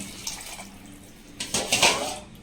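Water splashes and pours into a pot, quiet at first and then louder, with a slight metallic ring as it fills.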